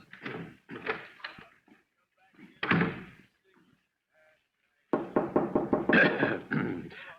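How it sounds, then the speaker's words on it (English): Knocking at a door as a radio drama sound effect, a few sharp raps amid brief spoken exchanges, close and fairly loud with quiet gaps between. "Yes, that's the door."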